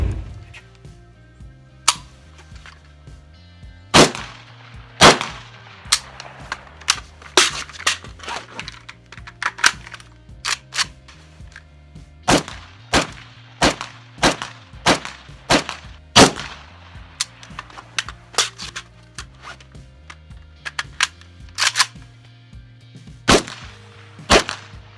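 An AK rifle is cleared and handled, giving sharp metallic clacks and snaps at irregular intervals, loud and close, with quieter rattles and shuffling in between.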